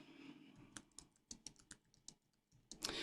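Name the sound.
typing on computer keyboard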